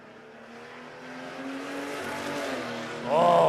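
A drag racing car at Warwick Dragway, Australia, maybe an EK station wagon or a black Commodore, holds a steady engine drone that rises in pitch and grows louder, ending in a sharp high squeal.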